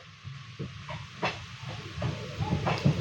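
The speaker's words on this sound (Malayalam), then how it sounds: "പക്ഷേ ട്രെയിൻ സ്ലോ ചെയ്തിരിക്കുവാണ്" A train slowing down as it approaches Kodaikanal Road station, heard from on board, gives a low rumbling clatter with short hisses and knocks of carriage noise and no voices.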